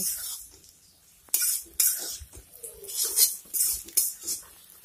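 Soybean chunks being turned and fried in a pan, with quiet sizzle broken by several sharp metallic clinks and scrapes of a utensil against the pan; no talking.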